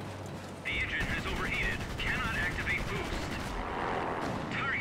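Rockets and gunfire crack and rumble through a World of Warplanes air battle, dense bursts of fire over droning engine noise, with someone talking over the shooting.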